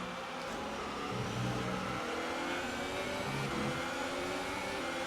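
F1 2018 video game race car on the Brazil circuit, Bottas's car passing: a steady, mid-loud engine drone with shifting engine tones, continuous throughout without talk.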